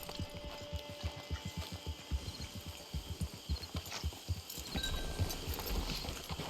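Horse hooves clip-clop in a steady trotting rhythm on a dirt path in the Red Dead Redemption 2 online game, close and continuous over a soft outdoor ambience.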